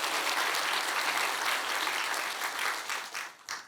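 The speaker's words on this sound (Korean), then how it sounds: "박수 한번 치시오." A church congregation in Songdo applauds during a Sunday sermon, producing dense, even clapping that holds steady and then tapers off at the end.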